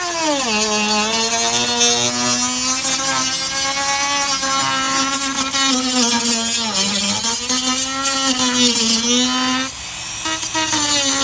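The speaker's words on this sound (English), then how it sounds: "Okay, I'm on my last little bit. Yep, with my little Dremel." A small Dremel rotary tool cuts plastic while refurbishing a clothes hamper, giving a continuous high-pitched whine that wavers slightly in pitch, loud and close throughout with no speech.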